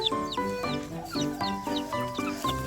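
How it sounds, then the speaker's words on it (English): A lost chick runs about a ranch among other chickens, peeping: a near, steady series of sharp, high peeps roughly every half second, with no talk. "It's just running all over the ranch, and it's peeping"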